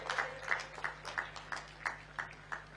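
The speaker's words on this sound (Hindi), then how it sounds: "तालियों के साथ स्वागत करेंगे।" An audience at a political gathering welcoming Amit Shah claps in unison, about nine evenly spaced rhythmic claps in quick succession, faint and distant over a low steady hum.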